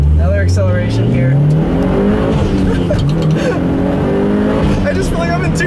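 A Mitsubishi Evolution 9 MR accelerates hard, its engine note climbing through the revs with a loud, close, throaty roar and turbo whooshes, heard from inside the car with a voice talking over it.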